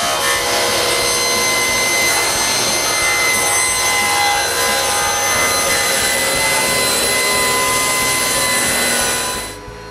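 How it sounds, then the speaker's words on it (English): A power saw cuts glued wooden boards to width in a woodworking shop with a loud, continuous, high-pitched whine and rough rasp for nearly ten seconds. It winds down abruptly at the end. "When the glue is dry, I cut them to width."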